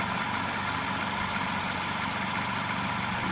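An overunity test motor spins at about 895 RPM, giving a steady, close, even hum with a broad whirring texture that holds at one level throughout, with no voices.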